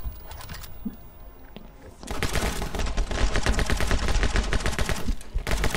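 Rapid gunfire from My Friend Pedro bursts in loudly after a quieter opening, becoming a sustained, fast rattle of shots that continues to the end.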